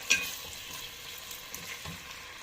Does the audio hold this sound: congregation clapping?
no